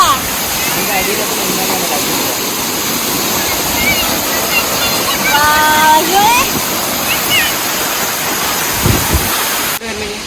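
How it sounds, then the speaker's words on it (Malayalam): A waterfall pours in a steady, loud rush of flowing water, a constant broadband roar throughout, with faint voices partly buried beneath it. "ഒഴുകിക്കൊണ്ടിരിക്കുന്നത് വാട്ടറാണ് അടിപൊളിയല്ലേ"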